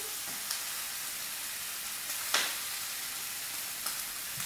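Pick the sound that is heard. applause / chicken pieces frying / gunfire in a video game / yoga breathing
chicken pieces frying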